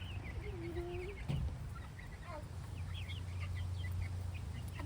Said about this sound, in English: Look at that rooster.